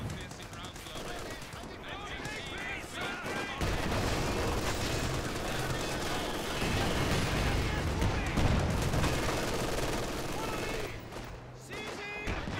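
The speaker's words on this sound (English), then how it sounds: "They're shooting at us!" Dense gunfire rattles through a video game battle, with machine-gun bursts and rifle shots piling into a continuous barrage as shouted voices carry over the combat.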